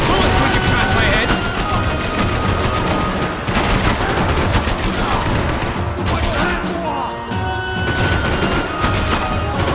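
Gunfire and bullets in the action shooter Max Payne 3, a dense, loud, nonstop barrage of overlapping automatic fire, impacts and crashes filling the whole stretch without letting up.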